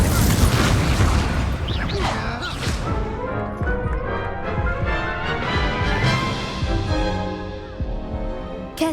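Spell-casting combat in the Hogwarts Legacy video game: heavy booms and crashing magical blasts roll on continuously at close range, with dense layered impacts throughout.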